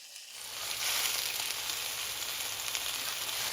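Pork tenderloin searing seam side down in hot olive oil, a steady, close sizzle and crackle that holds loud and even throughout with no talking.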